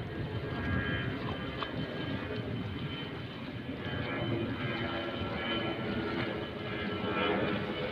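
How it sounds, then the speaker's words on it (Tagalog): Airplane passing overhead above Manila Bay, a loud, broad rumbling roar that swells and holds steady throughout, with no speech over it. "medyo may dumaan na aeroplano guys, medyo maingay-ingay"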